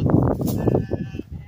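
Sheep on a lamb-raising farm bleat loudly and close, several overlapping wavering calls packed into a moment, with farm background noise.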